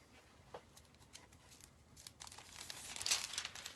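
Craft transfer foil being cut from a sheet and handled, soft crinkling and brief tearing rustles that grow louder and busier toward the end, close and quiet.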